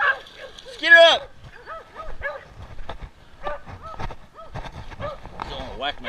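Herding dog barking during cattle work outdoors: a loud bark stands out, followed by more irregular barks and yips mixed with someone shouting, and faint movement noises between them.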